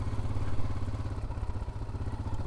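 A 1988 Yamaha Ténéré motorcycle rolls slowly along a sandy stretch of the Transamazônica BR-230 at about 20 km/h, its single engine chugging in a close, uneven rhythm with light clatter.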